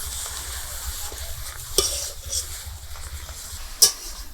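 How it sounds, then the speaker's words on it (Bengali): Wet coriander leaves stirred in a dry wok with nothing added, a soft continuous hiss of evaporating water with a couple of brief clanks from the spatula against the metal. "এইভাবে একটু নেড়ে চেড়ে এই জলটা শুকিয়ে নিতে হবে।"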